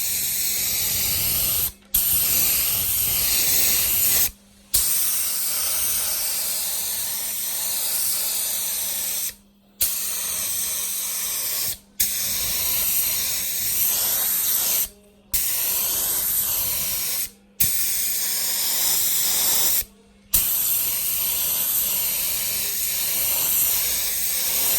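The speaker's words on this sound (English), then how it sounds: "All we have to do now is start to apply the metallic red." Long continuous bursts of an aerosol can spraying metallic red paint onto a monster truck, hissing up close, broken by several brief pauses between passes.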